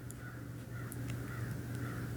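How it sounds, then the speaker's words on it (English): Crows caw outside in the distance on a snowy day, a few faint repeated calls over a steady low background hum, with no one speaking. "I don't know if you guys can hear the crows."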